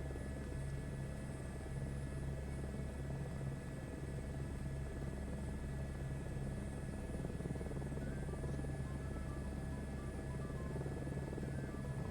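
An Airbus H125 helicopter lifts off in a two-stage hover departure, its steady loud rotor and turbine drone filling the cabin continuously with a constant deep thrum and whine, no talk.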